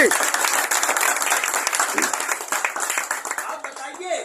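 Loud, enthusiastic applause from an audience at a speech honoring independence fighters, a dense burst of clapping that rises quickly and fades out after a few seconds.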